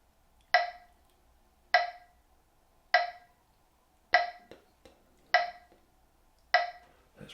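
A metronome set to 50 beats per minute ticks six times at a slow, perfectly steady pace, each sharp click standing alone against near silence.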